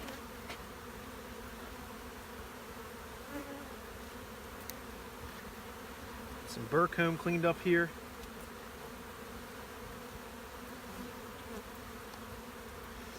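Honeybees hum steadily in a low drone at a hive during spring colony cleanup, with someone talking briefly over the buzz.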